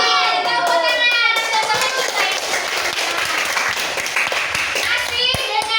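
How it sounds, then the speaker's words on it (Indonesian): Children clap their hands in a classroom lesson, a loud burst of quick claps that runs throughout, mixed with young voices speaking. "Yeay, tepuk tangan."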